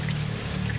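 A mix of water and oil trickling out of a flood-soaked Toyota Avanza, a steady continuous pour with a low engine hum underneath, close and moderately loud, no talk.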